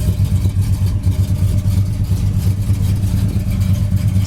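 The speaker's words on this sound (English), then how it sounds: "It's got this typical big block 400 Pontiac exhaust sound." A 1968 Pontiac GTO convertible with a big-block 400 engine runs nearby with a loud, steady, deep exhaust rumble and a throbbing low idle throughout.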